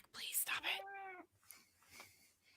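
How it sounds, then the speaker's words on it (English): A cat meows with a drawn-out, clearly pitched call in the middle of the clip, heard close by just after a burst of speech, followed by quieter talk and room noise. "Pardon me if you hear meowing."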